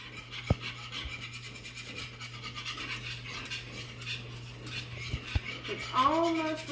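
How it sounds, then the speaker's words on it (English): Whisk scraping through bubbling milk and flour gravy in a pan, a steady rasping stir with a few sharp clinks against the metal, close up, with a faint hum underneath. "so I'm going to whisk it some more"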